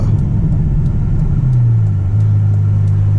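A Ferrari F12 with its V12 engine drives along in manual mode, a steady, deep, loud engine drone heard from inside the cabin, its pitch dipping briefly during a shift and then holding steady, with no talking.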